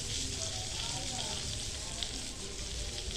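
Masala-coated fish frying slowly on a hot tawa griddle, a close, steady crackling sizzle that runs without pause.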